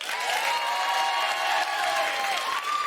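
Steady, dense applause from a large comedy audience in a Swansea theatre, with some cheering mixed in, filling the whole stretch at an even level.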